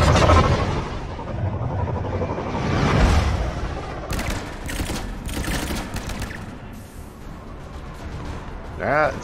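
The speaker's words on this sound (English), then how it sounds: "lots of shooting going on here" Dense, rapid video game gunfire from Mass Effect 3 rattles in bursts amid booms and combat noise, with voices talking over the fighting.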